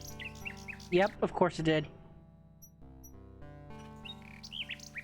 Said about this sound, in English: Now watch the bird pop up here.